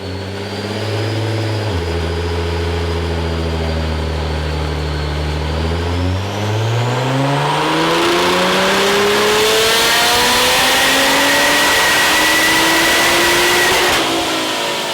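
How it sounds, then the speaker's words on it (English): A 660 hp Nissan R35 GT-R on a dyno at full throttle: a loud, close engine drone that holds steady, then sweeps upward in pitch as it revs hard and climbs to a roaring high note before easing off. "This car sounds amazing, even just sitting at idle, but having it on full open throttle on the dyno,"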